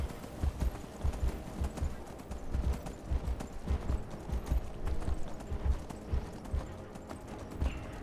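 A horse galloping in the Skyrim video game, fast, steady clip-clop hoofbeats in a rapid rhythm, loud and close, with no talk.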